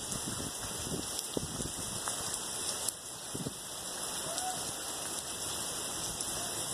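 Heavy rain pours onto a flooded street in Karachi, a dense steady hiss of falling water and splashing runoff, close and continuous, with faint voices underneath.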